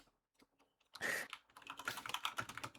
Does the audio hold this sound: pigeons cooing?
no